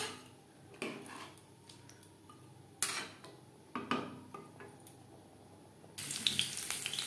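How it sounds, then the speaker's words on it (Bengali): Spice-rinsing water is added to a pan while cooking Bengali aloo chicken kosha, heard as scattered clinks and knocks of kitchenware followed by a brief splashy pour near the end. "আমি এখানে মশলা ধোয়া জল অ্যাড করলাম, যাতে পুরো মশলাটাই অ্যাড করতে পারি"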